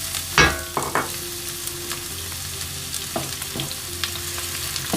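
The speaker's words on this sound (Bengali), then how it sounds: "আমি পেঁয়াজটা একটু হালকা ভাজবো।" Chopped onion and a few dried red chillies fry in hot oil with a continuous close sizzle, marked by several knocks and scrapes of stirring. No one talks.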